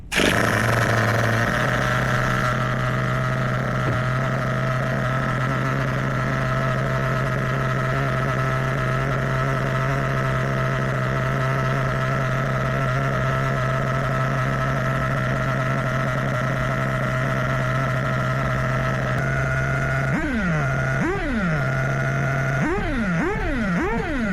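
An HPI Hot Bodies Lightning 2 nitro buggy engine warming up on the bench, droning steadily and loudly at idle close by, then giving several quick rising and falling throttle blips near the end.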